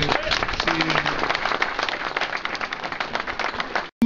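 A crowd at the Gentlemen de Cannes 2010 cycling event applauds steadily and loudly, dense clapping for about four seconds before cutting off abruptly.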